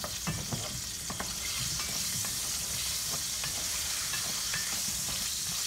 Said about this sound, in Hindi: आपने इन्हें हल्का सा फ्राई करना है अरवियों को।